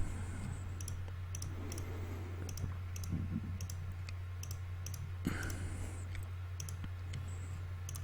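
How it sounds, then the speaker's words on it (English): A computer mouse clicks while a cartoon is drawn in Inkscape, sharp close clicks arriving in an irregular series, sometimes in quick pairs, over a steady low electrical hum. "And I'm just clicking around and making this fuzzy hair of his."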